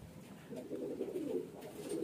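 A highflyer pigeon from a breeder's stock coos in low, rolling bursts that grow fuller after the first half second and carry on steadily at moderate volume, with no voices.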